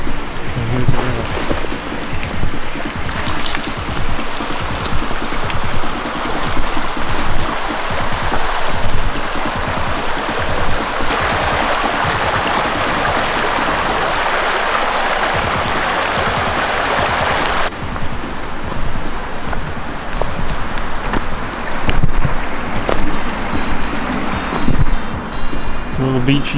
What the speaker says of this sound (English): And here's the river.